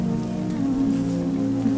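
Steady rain falls throughout a Hindi film scene, an even wash of pattering drops holding a constant loudness with a low tonal hum underneath.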